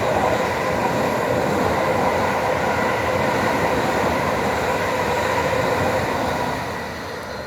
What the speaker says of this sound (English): Now I can hear a train approaching, so let's see which one this one is.